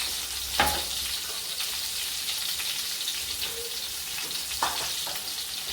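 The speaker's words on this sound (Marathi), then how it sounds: "फोडणीला जिरं घालते." Steady hiss of cumin seeds sizzling in hot oil in a kadhai, with a couple of faint taps of a spoon against the pan.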